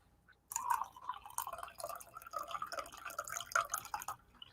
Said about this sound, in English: pardon my coffee pouring there if you can hear it